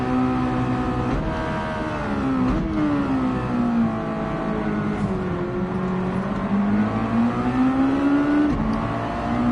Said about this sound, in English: Now these are the Mazda Roadster Touring, as you can see on everybody's icons.